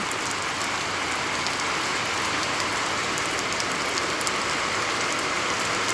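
Heavy monsoon-style rain pours down steadily outside a home, a dense, continuous roaring hiss that holds at the same loudness throughout with no voices.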